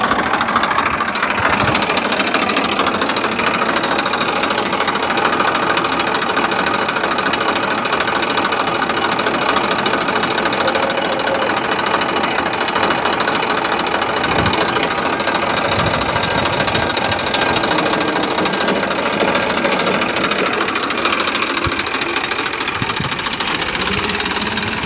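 A tractor engine working while plowing a farm field, a loud steady drone with a rough, knocking texture that holds without a break for the whole stretch, with no talking.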